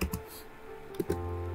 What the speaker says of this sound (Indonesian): Kita ketikkan HTML, kemudian ada head